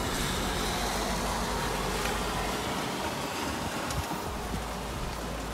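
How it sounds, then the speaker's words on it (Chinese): Heavy rain pours outside a window on a gusty, overcast day, a dense, steady hiss without letup and no voices. "雨真的非常大"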